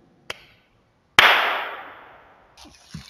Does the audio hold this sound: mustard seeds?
no